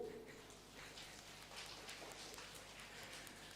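A crowd snapping and tapping fingers together to imitate rain at a tribal pride day event, a dense, steady patter of many small clicks like a drizzle building, continuous throughout with no talk.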